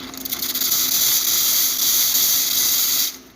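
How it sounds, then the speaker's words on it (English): Espresso machine steam wand on a VBM machine fresh from a full tune-up, blasting a strong, steady loud hiss of steam for about three seconds before cutting off abruptly. "Nice strong steam."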